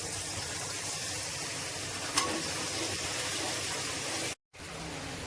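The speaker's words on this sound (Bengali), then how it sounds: "মশলাটা আমার ফুটে উঠেছে" Spice paste thinned with water bubbles and sizzles steadily in a pan while cooking bottle gourd prawn curry, a constant close hiss with a brief sharp tick partway through and a short dropout near the end.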